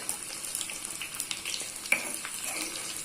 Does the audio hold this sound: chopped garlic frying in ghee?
yes